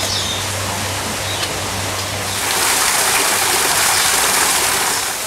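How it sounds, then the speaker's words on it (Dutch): Waterfall in the tropical hall of a zoo roars as a steady broadband rush, with a low hum under it early on and the water swelling louder about halfway through. "En dan sta ik hier weer een waterval"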